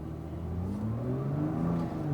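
A 2022 Nissan GT-R accelerating on a track at SpeedVegas, heard from inside: a steady engine drone whose pitch climbs smoothly through the revs, loud and close, with no talk.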